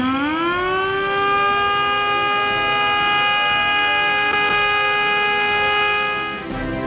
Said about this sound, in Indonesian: Peringatan detik-detik proklamasi diawali dengan membunyikan sirine.